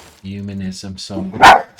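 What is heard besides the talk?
dogs barking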